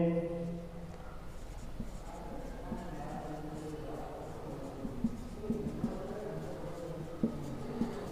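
Chalk or marker scratches across a board during a Class 10 Hindi-language geometry lesson on quadrilateral ABCD, short strokes and taps heard up close while a teacher talks throughout.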